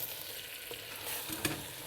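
A gobi keema mixture is stirred in a pan, producing a faint, continuous sizzle with a few soft scrapes of the spoon, heard alone and at low volume.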